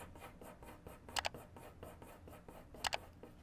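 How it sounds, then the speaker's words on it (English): Pencil lines being drawn on paper, a soft, close run of short scratchy strokes in a steady rhythm, with two brighter scrapes standing out, no talking. "So I'm finalizing the pencil line here."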